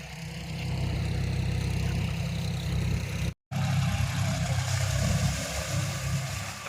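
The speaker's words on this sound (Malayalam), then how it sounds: "വെള്ളത്തിൽ ട്രാക്ടർ കേട്ടോ" A tractor engine idles and chugs steadily at close range while driving through water, a low rumbling drone that cuts out briefly in the middle before resuming.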